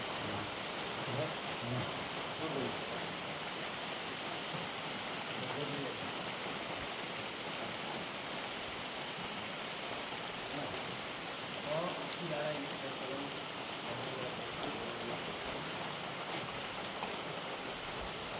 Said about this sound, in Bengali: বৃষ্টি আবার কমে যাচ্ছে